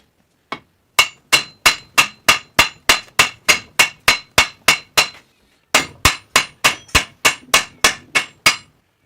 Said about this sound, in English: Now I'm getting ready to drive this big pin out the other side to separate the two hinges together.